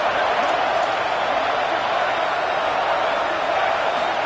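A home crowd at a football game produces a steady, dense roar of cheering and noise from a packed stadium, continuous and loud throughout, with commentary voices mixed in.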